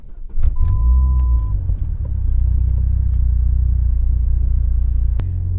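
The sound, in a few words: turbocharged Dodge SRT-4 driving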